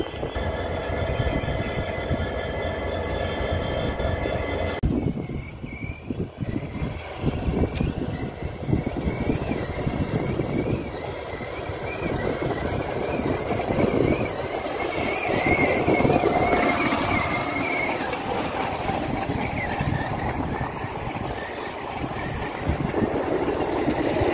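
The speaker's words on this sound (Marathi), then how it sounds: "आता ही सध्या ट्रेन इथं उभा आहे" A steady low engine rumble with hiss from a train standing at Vighanwadi station in Beed during a railway safety test run, continuous for the whole stretch with slight shifts in texture.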